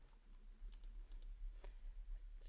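Fingers type on a computer keyboard in short, quiet bursts of clicking keystrokes, faint and close, with no one speaking.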